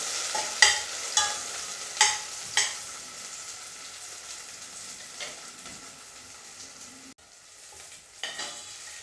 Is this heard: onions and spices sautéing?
yes